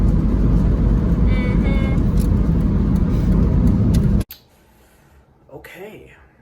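A 2002 Ford Mustang on a cross-country road trip. A loud, steady rumble of road and engine noise fills the cabin for about four seconds, then cuts off abruptly, followed by quieter sounds and a brief voice.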